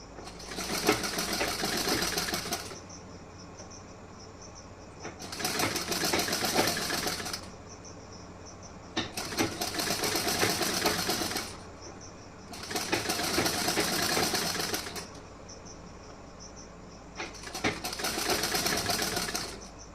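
A sewing machine stitches a blouse with piping fabric in five steady runs of a few seconds each, separated by short pauses, close and moderately loud with no voices.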